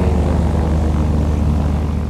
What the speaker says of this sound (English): RC-3 Seabees are four-place all-metal amphibs